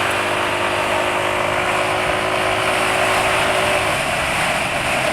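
A motorcycle engine running on Meditran SX Bio oil after about 1900 km gives off a continuous, loud, fairly smooth drone with a steady whine that fades out near the end, with no talking.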